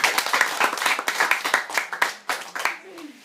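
Rapid, steady clapping from a school debate audience fills a few seconds, close and dense, tapering off at the end as a voice begins to speak.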